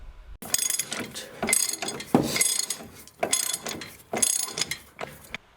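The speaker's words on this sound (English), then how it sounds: "I'm using a 3/4-inch drive ratchet since I do have access to one" A 3/4-inch drive ratchet tightens the strut bolt nuts on a 2007 Chevy Equinox front strut. It gives close, loud bursts of rapid clicking in repeated strokes with short pauses between, and no talking.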